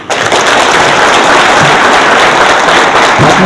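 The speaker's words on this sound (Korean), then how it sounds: "다시 한번 큰 박수 부탁드립니다" Sustained applause from an audience at a Gyeonggi Province go club lecture event, a dense steady wash of many hands clapping that holds at full strength throughout, with no talk over it.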